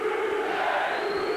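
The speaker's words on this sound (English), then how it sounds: "As the crowd rally their support" A boxing crowd roars steadily in support during the seventh round of a fight, a dense, continuous wall of cheering voices that holds at a loud, even level throughout.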